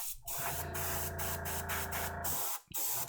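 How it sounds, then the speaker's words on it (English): An airbrush sprays alcohol ink onto canvas in short hissing bursts, close and fairly quiet, separated by brief gaps as the trigger releases. "So if you want to keep the hard edges off the edge, use an airbrush."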